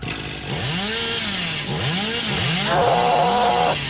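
Chainsaw in the horror game Dead by Daylight revs in repeated rising and falling surges, loud and close, with a steady mechanical drone beneath and a brief high whine near the end.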